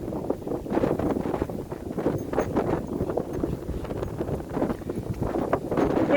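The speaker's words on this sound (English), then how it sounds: "Wind's quite strong" Strong wind buffeting a microphone outdoors on a dog walk, with constant loud rumbling gusts throughout and no voices.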